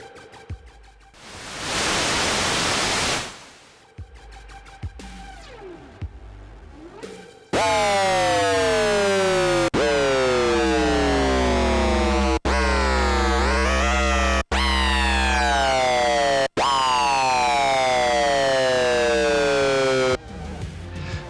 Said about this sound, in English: we have a noise generator and a ring modulator on oscillator 2